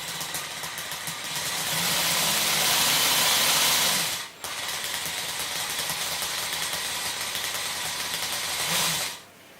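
A homemade RC V8 engine noise idling, a steady buzzing drone that holds evenly, cuts out briefly midway, then resumes and fades at the end, close to the microphone with no speech.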